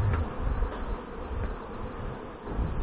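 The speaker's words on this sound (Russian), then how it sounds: "С утра пчелка заработала сейчас" Honeybees buzz at the hives of an apiary in July during the acacia honey flow, a steady, close, droning hum with individual bees swelling past, no talking.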